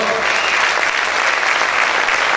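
A church congregation applauds loudly and steadily, a dense wash of many hands clapping together for the full stretch, with a faint voice briefly audible at the start.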